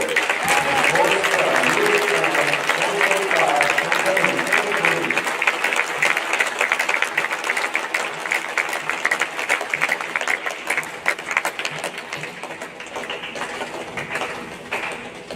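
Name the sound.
crowd applause for homecoming court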